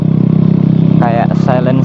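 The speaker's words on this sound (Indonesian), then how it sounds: "kayak peredamnya tuh hilang, jadi kayak suaranya tuh ngelos aja dari mesin keluar tuh ngelos, nggak ada peredamnya sama sekali" A motorcycle with a missing exhaust silencer drones loudly and steadily in a low, throbbing idle, close up, while a voice speaks over it partway through.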